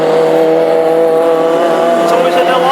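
Classic hot rod race cars tear around a track in Birmingham, a loud sustained engine roar with rising pitch as they accelerate past, and a race commentator talking over it.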